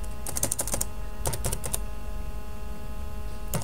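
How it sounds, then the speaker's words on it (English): Password being typed on a computer keyboard, a quick burst of clicky keystrokes, then a second short cluster after a pause and one final tap, close and alone over a steady low hum. "Type my password in."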